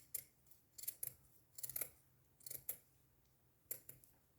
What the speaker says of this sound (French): Pareil, on coupe autour.